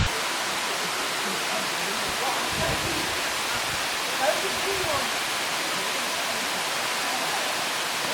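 Talakona waterfall roars as a steady, dense rush of falling water and spray, loud and unbroken throughout, with people talking faintly beneath it.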